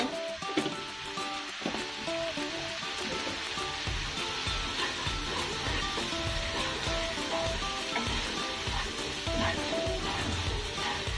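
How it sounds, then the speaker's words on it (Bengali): Turmeric and chili powder frying in a pan for a hilsa fish, eggplant and potato curry, a steady dense sizzle with stirring scrapes running throughout. "এবার মশলাগুলো ভালোভাবে কষিয়ে নেব"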